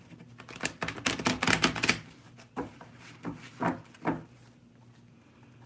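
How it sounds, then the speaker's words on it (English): An old deck of tarot cards is shuffled by hand, a burst of quick, close riffling clicks followed by a few softer separate shuffles, with no talking. "Let me shuffle a couple of times."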